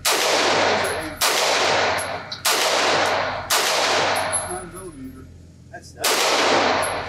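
Five loud gunshots from a Sig Sauer MPX K 9mm pistol, fired one at a time at a range, each with a sharp crack and a long decaying ring, spaced about a second apart.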